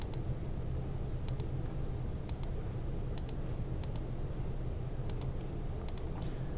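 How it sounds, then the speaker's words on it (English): Computer mouse clicks while photos are opened on a computer, sounding as sparse, sharp single and double clicks spread at irregular intervals over a steady low hum. "if I click on a photo, you can see them big."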